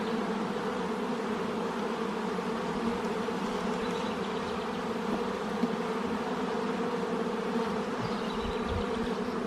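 Honeybees in an open hive during a beekeeper's inspection, a steady, dense buzzing hum from close by that holds evenly throughout with no talk.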